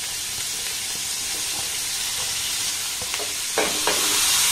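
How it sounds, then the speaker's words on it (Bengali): Onion, carrot and capsicum stir-fried in a pan over a low gas flame, a steady close sizzle with scraping stirs and a few louder clatters toward the end, no talking. "গ্যাসের ফ্লেমটাকে লো রেখে পেঁয়াজটাকে একটু নাড়াচাড়া করে ভেজে নেব।"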